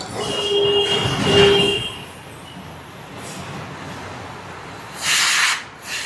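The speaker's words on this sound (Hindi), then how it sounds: "इसमें हम चेन क्लीनर डालेंगे।" Chain cleaner sprayed onto the dirty chain of a Royal Enfield Guerrilla 450 motorcycle, heard as two close hissing spray bursts, a longer one early and a shorter one near the end, with quiet pauses between.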